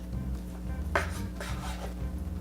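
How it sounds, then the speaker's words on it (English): A knife slicing through cooked chicken breast on a board, giving a couple of short, crisp cutting scrapes and a light tap or two against the surface, close and fairly quiet with low background hum. "Okay, and then we're just going to cut it."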